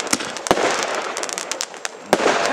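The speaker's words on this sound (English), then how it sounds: "And the Catherine wheel went off properly." Backyard fireworks at night, including a Catherine wheel, give a rapid series of sharp cracks and pops, several loud close bangs standing out over a crackling, hissing spray.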